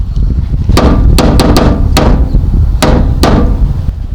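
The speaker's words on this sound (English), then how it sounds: "I'm going to take a hammer and I'm going to hit the fuel tank a special way" A hammer strikes a car's fuel tank to free a stuck fuel pump, about eight sharp metallic blows in quick irregular bursts, loud and close over a steady background hum, with no talking.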